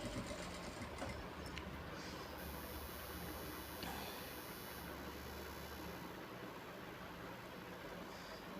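A sewing machine stitches maggam work on a blouse, a faint steady mechanical whir running continuously throughout with no voices.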